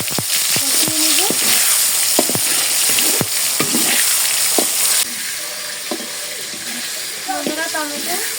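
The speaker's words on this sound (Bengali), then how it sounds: "তেলের মধ্যে দিয়ে দিব একটি তেজপাতা, পাঁচফোড়ন, টমেটো কুচি। টমেটোগুলো নাড়ানো পর্যন্ত কষিয়ে নিব।" Chopped tomatoes frying in oil with a bay leaf and panch phoron, sizzling loudly under repeated scraping clacks of a stirring spoon, with brief voice-like sounds in the background. The hiss eases slightly partway through.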